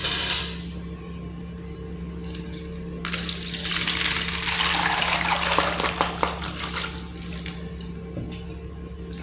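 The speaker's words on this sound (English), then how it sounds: "So it's time to strain it out." Groundnut water is poured through a strainer into a clean bowl, a steady splashing trickle that starts partway through and runs on over a low background hum, with no talking.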